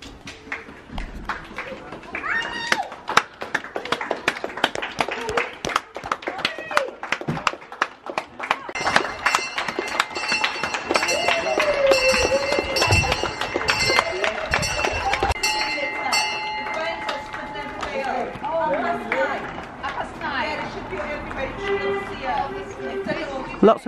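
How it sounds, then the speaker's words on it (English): Neighbors in a street during lockdown clap for carers, a sustained patter of many hands from nearby and across the road, mixed with bells ringing, beeping and scattered voices. "I'll be back when it's time for clapping for carers"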